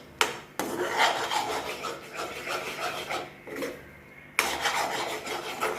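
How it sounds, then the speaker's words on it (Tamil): Food being stirred in a pan until crispy produces a rough, rasping scrape in long strokes, close and fairly loud, with brief pauses between passes. "நல்லா கிறிஸ்பியாக நல்லா கிளறணும். நல்லா கிண்டிக்கிட்டே இருக்கணும்"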